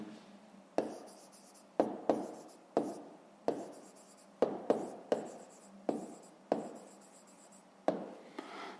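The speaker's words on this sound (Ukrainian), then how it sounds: "а зараз записуємо відповідь. Пишемо відповідь." A pen writes an answer on paper close up, with quiet scratchy strokes and about a dozen sharp taps as the pen lands, in an irregular rhythm with no speech.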